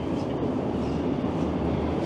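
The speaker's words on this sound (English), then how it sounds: "As a southbound train rolls in" A southbound Toronto subway train rolls into the station, a steady, moderately loud rumble of wheels and carriages with faint clacking, heard from the platform throughout.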